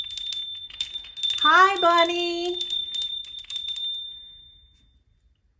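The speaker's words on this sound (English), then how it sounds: "I am going to ring my little bell." A little hand bell rings in a few quick bright strikes, close and clear, with a long shimmering tone that fades out over several seconds, and a short spoken greeting partway through.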